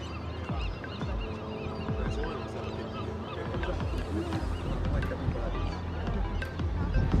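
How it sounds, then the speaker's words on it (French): A large colony of seabirds on Alcatraz Island in San Francisco Bay, a busy chorus of overlapping honking calls from many birds at varying distances, steady throughout. "ces centaines voire milliers d'oiseaux là."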